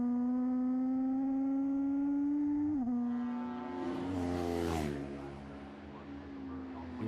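A Honda 750 racing motorcycle screams at high revs in a classic road race, its engine note rising steadily, dropping at a gear change, then swelling as it passes close by and fading away.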